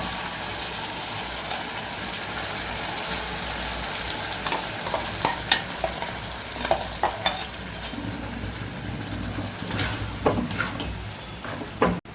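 Ground spice paste is stirred into sautéed tomato, onion and garlic in a hot pan for curry leaf kuzhambu, with steady sizzling frying and intermittent scraping, clattering spoon strokes close by.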